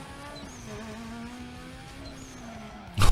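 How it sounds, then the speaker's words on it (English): A matte black tuned turbocharged car in Need for Speed: Most Wanted holds a steady engine drone, then releases a sudden sharp hiss from its turbo blow-off valve at the very end. "The turbo, the blow-off valve."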